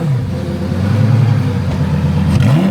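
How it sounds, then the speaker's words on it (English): A loud, close older Lamborghini V10 engine revs up and holds a high, rough snarl, then its pitch drops and climbs again, with no voices. "Old school Lambo V10s just, oh yes. Oh, give me some good revs."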